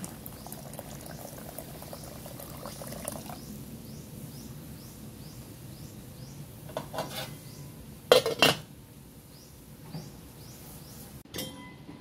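Oatmeal arroz caldo boiling in a pot of water, a steady bubbling simmer heard close up and alone, with a few sharp clinks of a utensil against the pot near the end.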